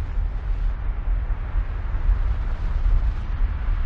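Minecraft TNT keeps detonating in the video game, heard as a continuous deep, rumbling roar of blasts merging into one another, fairly steady and moderately loud throughout.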